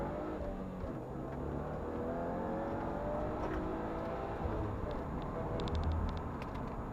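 A 2021 Subaru WRX running a Cobb Stage 1 tune pulls hard from a standstill toward sixty, its engine note climbing steadily through the gears, heard from inside the car at a constant level.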